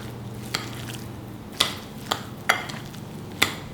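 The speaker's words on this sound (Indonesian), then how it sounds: "Kita aduk sampai rata." Stirring carrots and spring onions with tapioca in a pan, soft scraping and squishing with several sharp utensil clacks against the pan, close and alone with no talk.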